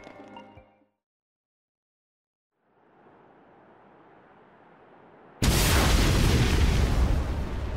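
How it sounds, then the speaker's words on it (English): An explosion in the video game Xenoblade Chronicles 2: a brief voice, a pause, a low rising rumble, then a sudden loud, sustained roaring blast that fills the rest of the clip. "An explosion?"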